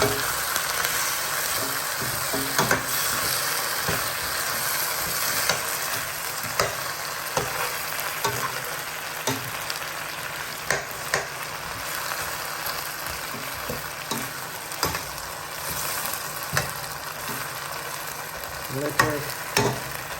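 Chicken feet frying in a pot give a continuous close sizzle, broken by regular scraping clicks of stirring and occasional louder pops; no one speaks.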